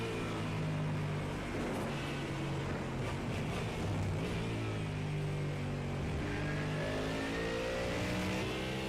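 Corvette and Ford race cars in a Le Mans sim racing game, engines droning loudly and continuously with shifting, overlapping revs as the cars run close together.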